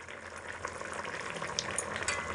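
Garam masala is stirred into a simmering potato and egg curry over low heat, a soft, continuous bubbling sizzle with light scraping from a spoon, close and even throughout.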